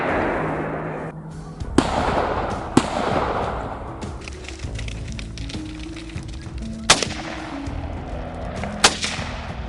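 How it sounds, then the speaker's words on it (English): Sharp gunshots crack out over a busy background, scattered and echoing across a field as wild boars are shot, with a few louder reports standing out among rapid distant firing. "a barrage of gunfire echoes across the field"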